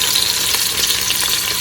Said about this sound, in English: I'm gonna sear the chicken skin side down in a hot pan